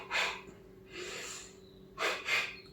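A runner demonstrates a breathing pattern of one inhale and two exhales, close, audible breaths in a clear repeating rhythm with no speech.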